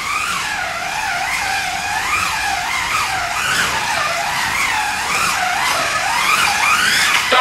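Scalextric VW Beetle slot car racing around a track, its small electric motor giving a loud, continuous whine that rises and falls in pitch as it speeds through the corners and straights.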